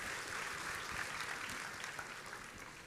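A church congregation claps together at the close of a worship service, a steady wash of applause that stays even and moderately distant for about three seconds with no talking over it.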